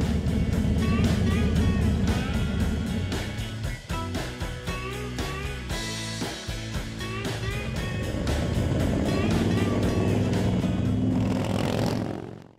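A motorcycle with loud exhaust pipes rides along, its deep engine roar sustained and close throughout before dropping away at the very end.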